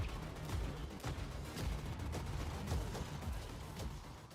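Shooting action in The Ascent: rapid gunshots and impacts crack and thud repeatedly at low level, a busy burst of firefight sounds with no talking.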